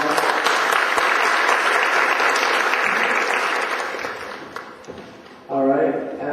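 An audience at a foundation event gives a speaker a round of applause, loud sustained clapping that tapers off over about five seconds before a voice starts talking.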